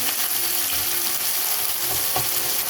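Meat and onions fry in a pan, giving a steady, loud sizzle that runs throughout with occasional stirring scrapes and no talking.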